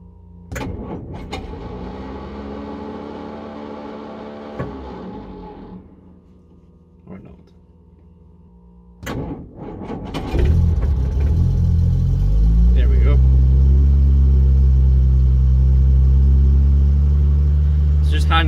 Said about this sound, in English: And just hold down the starter.